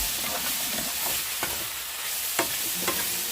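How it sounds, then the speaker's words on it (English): Seasoned mushrooms sizzle steadily in a hot frying pan, with a spoon or spatula stirring them and scraping against the pan in a few soft strokes. The sound is continuous, close and dense, with no talking. "Stir them into the heat, and then we're gonna make sure those are nice and cooked down."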